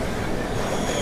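Jan Shatabdi Express (Vijayawada–Chennai Central) at Nellore station, platform 2, giving a steady, close rumble of rolling coaches with no voices.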